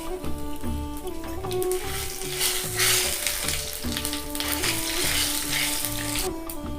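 Dried red chillies, bay leaves and cumin seeds sizzle steadily in hot oil in a home kitchen, a continuous close frying hiss with occasional stirring scrapes throughout.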